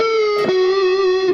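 A distorted electric guitar played through a Marshall Jubilee amp with high gain and the tone rolled back, sustaining one loud, held note that shifts pitch slightly midway and rings on.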